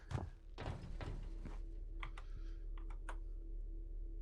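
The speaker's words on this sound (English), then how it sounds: "Literally sounds like his keyboard's like that." Computer keyboard typing during a Lethal Company game session: scattered sharp key clicks and taps, faint and close, over a steady low hum, with no talking.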